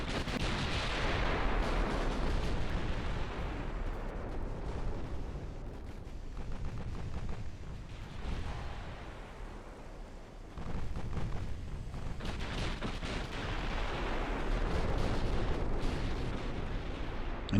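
Battleship guns firing in the naval strategy game Ultimate Admiral: Dreadnoughts: a long stretch of heavy, rolling artillery blasts and booming rumble, loud and overlapping, swelling and easing in waves with no pauses into silence.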